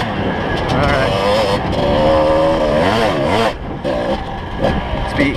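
Kawasaki KDX dirt bike engine buzzes loud and close while riding off-road at Ocotillo Wells, its pitch rising and falling as the throttle changes, with a brief dip in revs partway through.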